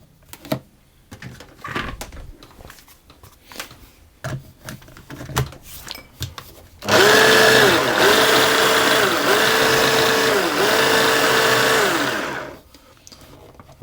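Food processor pulsing tart dough ingredients with citrus zest, several short loud motor bursts in quick succession for about six seconds, after quiet handling noises.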